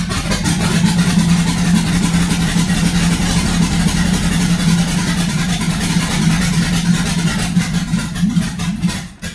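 A Chevrolet OBS truck engine being built for drifting runs loudly close by, a low steady rumble with rough idling and some revving, then briefly cutting at the end.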